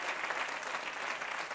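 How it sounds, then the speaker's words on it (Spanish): Stand-up comedy audience applauding a joke, a steady, even wall of many hands clapping at a moderate distance, uninterrupted throughout. "Un fuerte aplauso para ese gran logro."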